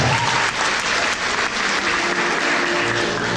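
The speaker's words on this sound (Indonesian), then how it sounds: "Kita beri tepuk tangan sekali lagi untuk yang kata Tuhan" Congregation applause for a church choir from HKBP District 5 East Sumatra, a loud, dense and continuous burst of many people clapping that carries steadily throughout.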